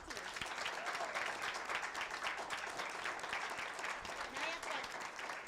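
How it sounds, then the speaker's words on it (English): Faint, steady clapping from a modest crowd at a school board meeting honoring an esports team, an even patter lasting several seconds without a break. "please, a little round of applause for our esports team"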